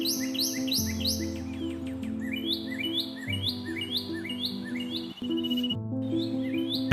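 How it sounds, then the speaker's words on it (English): Bright, rapid bird chirps and calls, including a macaw's shrill cry, repeat in bursts over a steady hum, with several birds singing together at moderate distance in the Amazon jungle. "the shrill cry of the macaw echoes, mixing with the songs of other birds"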